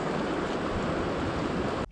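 Flooded, muddy creek after about an inch of overnight rain, its water rushing in a loud, steady broadband roar close by, with no voices.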